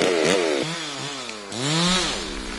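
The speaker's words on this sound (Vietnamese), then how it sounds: "Cao su hơn 20 năm tuổi cũng cưa bỏ." A chainsaw cuts down old rubber trees more than twenty years old, its engine rising and falling in pitch as it revs through the wood, loud and close and steady throughout.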